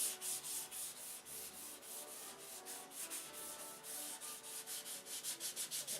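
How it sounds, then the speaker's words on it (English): 600 grit sandpaper rubs back and forth in a steady rhythm of short strokes, a soft, close, hissing scrape heard alone, with no other sound. "Once I get it all sanded with 600"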